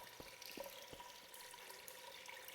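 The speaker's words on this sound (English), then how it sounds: "I'm hearing a drain, but I don't see a drain in sight." Faint, steady trickling and splashing of water draining near a balcony in Garry's Mod VR. A soft, continuous wash carries a few brief drips, heard quietly and at a distance with no talk.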